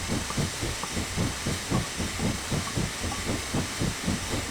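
A steam locomotive in Train Simulator 2017 on the Settle to Carlisle line gives a steady broad hiss, with a rhythmic chuffing pulse running beneath it throughout.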